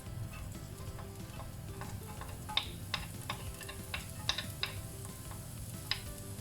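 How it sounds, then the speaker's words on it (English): Ginger sizzling in hot oil in a pan for sweet and sour seabass, a steady crackling fry with sharp spitting pops and light stirring clicks at irregular intervals. "And fry the ginger."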